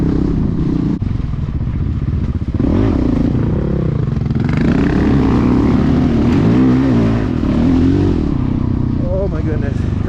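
A Honda CRF450X dirt bike engine drones and revs continuously while riding through snow, its rough motor note loud and close, with voices talking over it.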